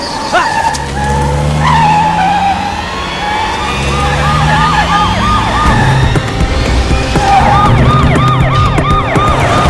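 A loud police siren wails in rising and falling sweeps, close and continuous, over the rumble of a car engine.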